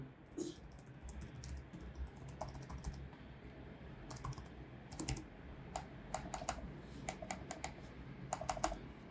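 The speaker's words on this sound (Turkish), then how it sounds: "Tuş sesine bakalım hemen" Lenovo Legion Slim 5 laptop keys clicking in short, irregular bursts, some single taps and some quick runs, close and fairly quiet with a low background hum.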